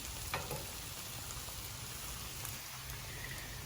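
Broccoli fries on a hot griddle, a dense, steady crackling sizzle heard up close, with a couple of faint clicks of a utensil and no talk.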